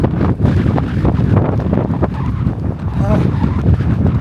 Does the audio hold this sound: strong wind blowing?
yes